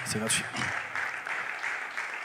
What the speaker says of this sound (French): Il y a des gens qui peuvent applaudir, c'est gratuit